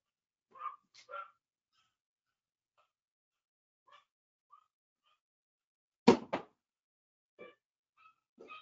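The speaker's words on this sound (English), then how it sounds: "Let me close my door because my dogs are going nuts." Dogs barking indoors at home, a few short scattered barks and yips, some fairly close and a sharper burst partway through, with quiet gaps between.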